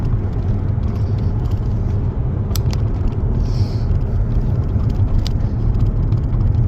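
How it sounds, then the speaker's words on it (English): Old Mercedes car driving along, a steady low road rumble and engine drone heard from inside the cabin as it brakes smoothly, with a few faint clicks on top and no talk. "the brakes are nice and smooth there. There's certainly no juddering"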